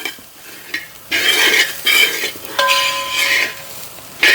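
Grated coconut is dry-roasted in a pan without oil for chammanthi podi, stirred with a utensil in repeated bursts of scraping and rustling strokes, with a faint sizzle and occasional clinks against the metal.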